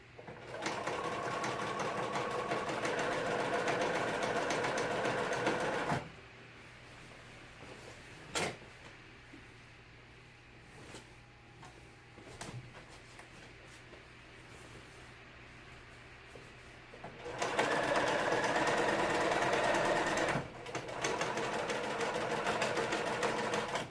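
A sewing machine stitches a window seat cushion cover in short, steady runs of fast mechanical whirring, with quiet pauses, small clicks and handling noises between the bursts.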